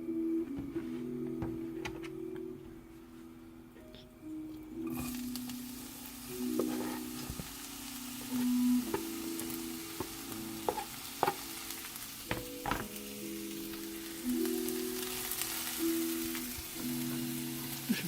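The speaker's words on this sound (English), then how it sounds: "we're gonna cook the onions first and then the garlic, and then I am gonna add the spinach" Chopped onions and garlic sizzle and fry in a pan for cream spinach, with a steady frying hiss and repeated scrapes and clinks of a utensil stirring, and no talking.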